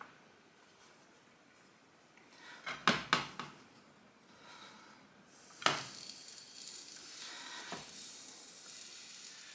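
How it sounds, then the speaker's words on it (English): Flour-coated beef for a slow cooker stew drops into a hot pan with a few clattering knocks, then a soft, steady close-up sizzle builds and carries on. "Right, now the meat is in the pan,"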